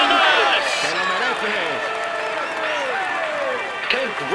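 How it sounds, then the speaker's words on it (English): A crowd applauds Geraint Thomas at the Paris-Nice cycling podium. The clapping is steady and continuous, with an announcer talking over it the whole time. "you can clap him loudly"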